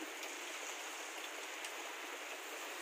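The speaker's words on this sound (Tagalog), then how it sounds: "Konting buhos pa lang ng ulan." Steady, dense rain pouring down without a break, a broad hiss of water hitting surfaces close by.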